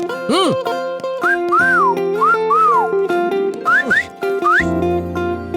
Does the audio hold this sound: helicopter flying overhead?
no